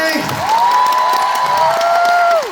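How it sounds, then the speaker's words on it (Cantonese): A concert audience at a show loudly applauds and cheers for the dancers, with sustained high screams and whoops riding over the crowd noise throughout. "我哋俾最大嘅掌聲佢哋好唔好？ 掌聲！"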